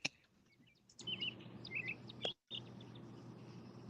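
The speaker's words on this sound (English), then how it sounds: "I hear birds chirping in the background where Tammy is" Several short bird chirps and tweets repeat over a steady low background hum, moderately faint, with no talking.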